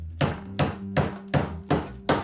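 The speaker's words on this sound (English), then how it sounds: "You hammer both" Six sharp hammer blows land at a steady, even rhythm, each a loud metallic strike over a low background hum.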